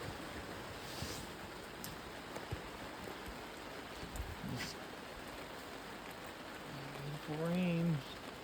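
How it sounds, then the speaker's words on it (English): Rain patters steadily on a six-person tent cabin, a soft continuous hiss with occasional louder drips, and brief voices near the end. "Rain"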